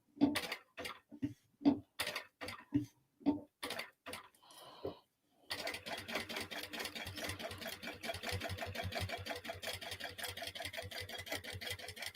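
A domestic sewing machine single-stitches around the corner of a crossbody bag, first in short separate bursts of a few stitches, then in one steady, continuous run of close mechanical whirring.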